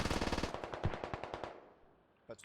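Rapid burst of MG3 machine gun fire in the tactical shooter Squad, a steady rattling stream of shots for about a second and a half, then fading tail and a brief later thump.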